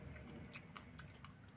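Soft close-up chewing of ice cream with crunchy pinipig, quiet steady bites and crunches in a still room with no talking.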